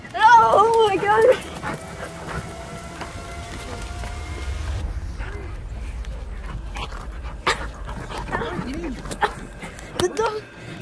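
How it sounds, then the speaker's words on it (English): A dog yelps and whimpers in a burst at the start, then pants and whines faintly against indoor room noise, while people talk and exclaim over it. "The dog!"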